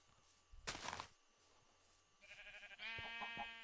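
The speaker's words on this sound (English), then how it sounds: "my naked sheep" Sheep in Minecraft, modded with Tekkit, give a few short bleats in a quiet game scene, one burst early and then a couple more near the end.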